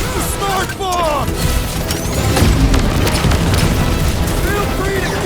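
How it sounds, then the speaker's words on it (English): A smart bomb explodes in the Guardians of the Galaxy video game during a fight with Fin Fang Foom, a loud sustained roar of blasts and crashing debris with game voices over it. "Down the smart bomb!"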